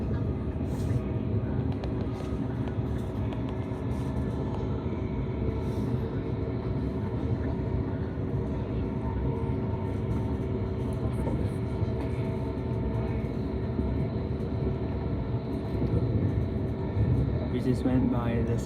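A seven- or eight-car express train runs steadily past a station, its continuous rumbling hum and rail noise filling the scene at a constant level from start to finish.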